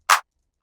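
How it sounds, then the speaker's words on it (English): Two short, sharp hand clap hits from a drum sample, each a bright crisp burst with a quick decay, separated by about half a second of silence. "Our third layer is going to be a hand clap that sounds like this"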